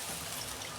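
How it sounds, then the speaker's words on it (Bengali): Water poured into a pan of fried, cooked-down spices for a vegetarian dhoka curry, giving a brief, steady trickling and hissing wash at close range with no talk. "আমি পরিমাণ মতো জল দিচ্ছি"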